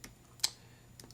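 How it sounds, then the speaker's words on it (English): A few separate keystrokes on a computer keyboard, with sharp clicks spaced unevenly and heard close but quietly, with no speech. "I want to type it. I'm just kind of in a typing mood."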